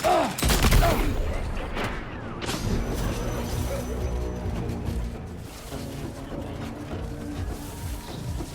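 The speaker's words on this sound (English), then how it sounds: "let's see if I can use the sniper rifle" Sniper rifle fire in Death Stranding 2, a sharp loud shot near the start followed by a ringing decay, then a second report and a long rumbling tail fading under softer ambient sounds.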